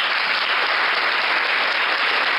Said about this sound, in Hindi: तालियां बजाई जाए.